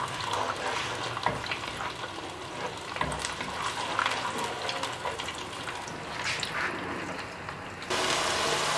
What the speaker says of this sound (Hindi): प्याज का पेस्ट डाल देंगे, इसको थोड़ा फ्राई करेंगे।